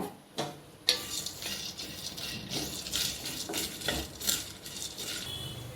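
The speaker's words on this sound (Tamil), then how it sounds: "இதில் இப்போ நம்ம எடுத்து வச்ச எல்லா பொருளையும் இதில் ட்ரை ரோஸ்ட்டாக பண்ணிடலாங்க" Cashews, pepper, curry leaves, cumin and fennel dry roast in a pan, stirred with a utensil that makes repeated scraping and light clinking over a soft, steady rustle, close and moderately loud.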